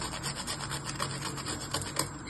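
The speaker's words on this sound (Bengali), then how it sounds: "আর একটুখানি জায়ফল ঘষে দিয়ে দিচ্ছি" Nutmeg is grated over kheer, a quiet, close, rhythmic rasping of quick repeated strokes with nothing else heard.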